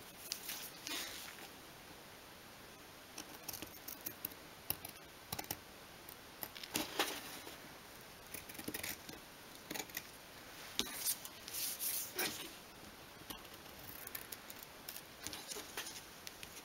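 Scissors snip squares of fabric for a miniature 1/12 scale double bed, a series of quiet, crisp, close-up cuts in irregular bursts with no talking.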